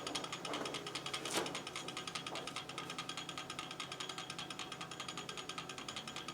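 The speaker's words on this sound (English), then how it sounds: "It's running very fast, and that's because there's no pendulum on it." A mantel clock movement runs very fast with no pendulum attached, making a rapid, even, close ticking and ratcheting whir that stays continuous and fairly quiet throughout.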